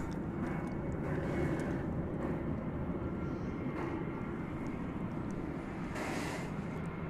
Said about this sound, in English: 1658 arriving from Los Angeles, an Airbus A321